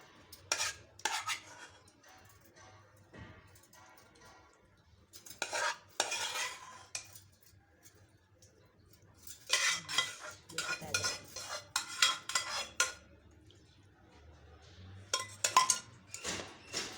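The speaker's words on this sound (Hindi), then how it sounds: "अब इसमें फिर ये कोरमा डालूंगी।" Korma for Sindhi biryani with potatoes is spooned into a pot, with scattered bursts of metal spoon clatter and stirring against cookware between quiet pauses.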